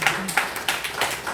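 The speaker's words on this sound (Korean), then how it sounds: "박수 한번 쳐드려야죠." A congregation at a Sunday morning service in a military church claps together, several quick bursts of hand claps at moderate volume, with a voice faintly in the background.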